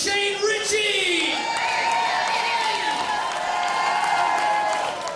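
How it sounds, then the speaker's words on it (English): A crowd at a live stage show claps and cheers for the special guest Shane Richie, with whoops and shouts rising over steady applause, fairly loud and continuous, tangled with music or voices. "Big round of applause for Mr. Shane Richie."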